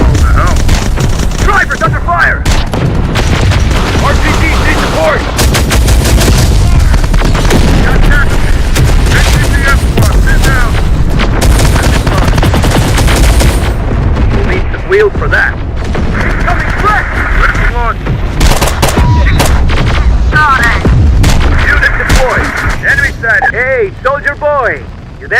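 A dense, loud video game battle in Terminator Dark Fate Defiance rages with booming explosions and rapid gunfire throughout, overlaid by shouted voices and game music.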